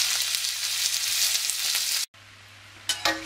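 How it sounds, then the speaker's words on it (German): Pork fries in a very hot wok with a loud, dense, steady sizzle, close by, cut by a brief silence before the frying hiss returns with a few sharper crackles. "Und wenn es dann richtig heiß ist, dann brate ich das Schweinefleisch an."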